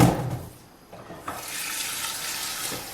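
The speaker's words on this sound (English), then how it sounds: "One thing that is important for this recipe is to wash the potatoes really well." Potatoes are washed under a running kitchen tap, giving a steady close hiss of water splashing into a sink after a brief bump and shuffle at the start.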